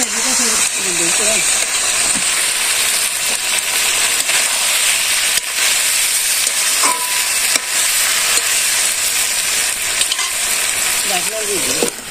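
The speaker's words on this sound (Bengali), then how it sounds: "ঢাকনা উঠিয়ে একটু বারবার একটু নেড়ে দিচ্ছি" Village rooster curry with onion paste and chili sizzles and fries steadily in a pan while being stirred, a continuous loud crackling hiss with occasional scraping, and a voice speaks briefly at the start and end.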